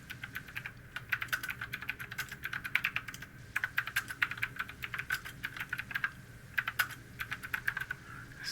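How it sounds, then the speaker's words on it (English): A loud computer keyboard clatters with rapid, uneven keystrokes during Star Trek Online play, close and crisp with short pauses between bursts of typing. "I have a really annoyingly loud keyboard on my left."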